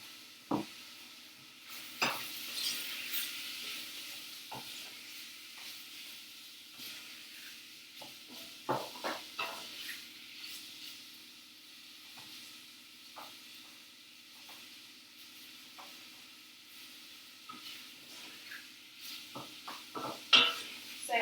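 Chicken korma sizzles softly in a pan while a spoon stirs it, with scattered scrapes and clinks against the pan over a steady low hiss.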